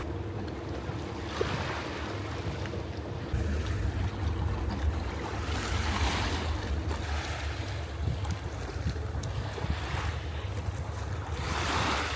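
Sea waves wash steadily onto the shore beside a hotel in Dahab, a continuous surf roar with gusts of wind buffeting the microphone, no voices present.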